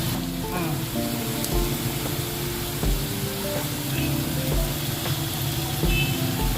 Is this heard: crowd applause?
no